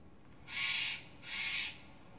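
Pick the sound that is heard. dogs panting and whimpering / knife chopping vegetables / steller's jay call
steller's jay call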